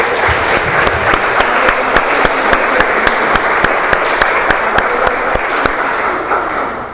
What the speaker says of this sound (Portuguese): Aplauda o Senhor, Deus